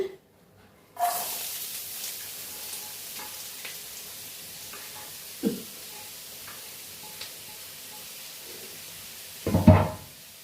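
Sliced onion dropped into hot oil sets off a faint steady sizzle after a quiet start, with a few isolated knocks and a louder clatter of stirring near the end.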